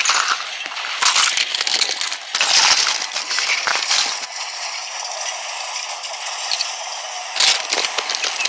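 Loud metallic crashing and grinding clatter in bursts, with rumbling collisions and scraping debris, then a sustained rattling roar and a final crash.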